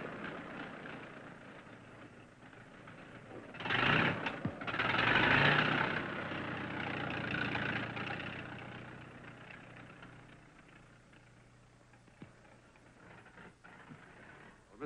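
A tractor engine in a 1938 farm setting runs with a low, steady rumbling idle that swells louder for a couple of seconds before settling back to an even hum.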